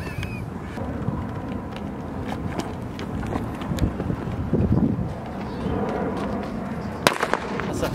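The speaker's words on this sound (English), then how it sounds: "It's fucking too much wind." Strong wind buffets the microphone outdoors near fireworks, a steady rough rumble that swells and eases throughout, with a sharp pop near the end and faint talk underneath.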